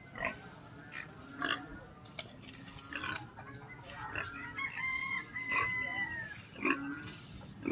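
Pigs in a pen grunt and squeal in a rural yard, with rooster-like crowing and clucking from nearby fowl mixed in, all at moderate distance and with no talking.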